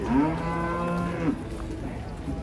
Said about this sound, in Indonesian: Kedatangan sapi unik.